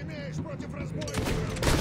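Gunfire from a gun in the video game Fable II, rapid bursts of shots under background game noise and faint voice, growing louder and denser toward the end.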